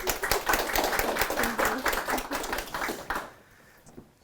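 A workshop audience applauds, a burst of dense clapping for about three seconds that thins out and fades to near silence, moderately loud in a room.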